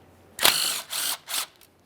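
A ratchet working loose the 13mm bolts on the transmission pan of a 1994-2001 Dodge Ram 1500: three close, crisp clicking bursts, the first loudest, with no talk.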